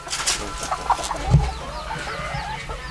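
Native-breed chickens raised on a small Thai family farm cluck in scattered bursts, moderately close, with a low thump partway through and no talking.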